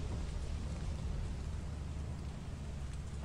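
Rain in the video game Lethal Company, a dense steady downpour with a low rumbling roar like distant thunder, constant throughout with no voices.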